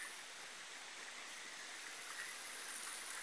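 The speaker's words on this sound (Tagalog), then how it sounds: "ito po guys yung Gisawan Falls sa Nangaan. Old Kabakan. Dito po. Lumuluksong tubig guys." Gisawan Falls in Nangaan, Old Kabakan, roars as a steady broadband rush of falling mountain water, constant and close with no voices.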